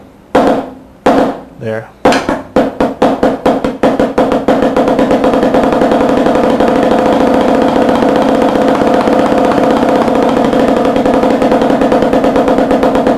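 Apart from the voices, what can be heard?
drum double strokes played with sticks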